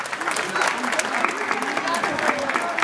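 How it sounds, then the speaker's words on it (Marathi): An audience at a Mangalagaur women's gathering breaks into dense, continuous clapping, heard close and steady for a few seconds with voices faintly mixed in. "पुन्हा एकदा जोरदार टाळ्या वाजवाव्यात."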